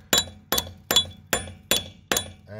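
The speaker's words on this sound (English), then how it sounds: "I'm gonna put the bolt extractor on there and give her a tap in." A bolt extractor is hammered onto a car's wheel lock nut, giving six sharp metallic clinks at an even pace, each ringing briefly before the next strike, close and loud.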